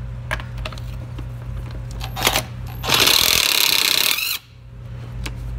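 A Milwaukee 1/2 inch impact wrench loosening bolts, with short clicks and bursts before a loud, sustained hammering rattle of about a second and a half that cuts off abruptly.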